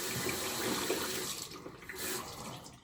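Tap water runs steadily into a sink during a wet shave with a brush and lather, a continuous close splashing hiss that eases slightly partway through, with no talking.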